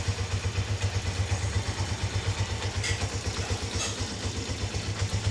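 A Mojo 110 motorcycle engine idles steadily after an oil change, a close, even low putter with a regular pulsing rhythm and no speech.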